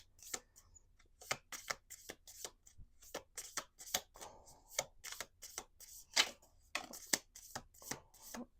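Tarot cards shuffled by hand in quick, crisp riffling bursts, about a dozen sharp flicks repeating at a steady rhythm, close and clear in an otherwise quiet room.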